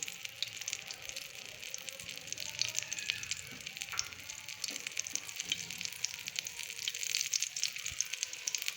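Egg-coated shami kebabs fry in a pan of oil, a faint, steady crackling sizzle with fine popping spatters that runs continuously without speech.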